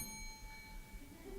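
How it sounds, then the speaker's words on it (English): A single bright bell rings once at the start of a debate, its clear tone lingering and slowly fading in a quiet room. "So when you hear this bell"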